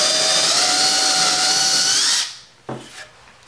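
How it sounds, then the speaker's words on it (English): A power drill with a 3/8 bit whines loudly and steadily into wood for about two seconds, then stops, followed by a couple of faint knocks. "now you want to go ahead and drill on top with the 3/8 bit"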